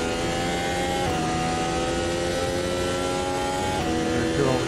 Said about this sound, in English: as far as simulating the noise that comes from a modern day F1 car